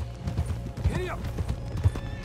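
Galloping horse hooves in Red Dead Redemption 2 pound in a steady low rhythm, with a short whinny partway through and someone talking over them.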